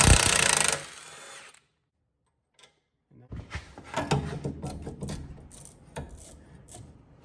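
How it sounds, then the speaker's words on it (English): An impact tool whirs on a lower rear strut bolt of a 2004-2009 Toyota Prius, a loud short burst that cuts out into silence, followed by rattling clanks and bursts of loosening and handling metal parts. "I'm going to remove these bottom bolts, because that's all that's left that's holding these rear strut assemblies in place"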